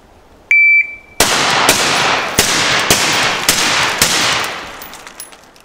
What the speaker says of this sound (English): Same sequence, I'll shoot it here in a second.